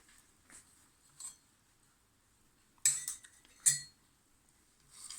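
Plating garlic butter toast, with sharp metallic clinks of cutlery against dishes, a few light taps and then two louder clatters, close and isolated in a quiet kitchen.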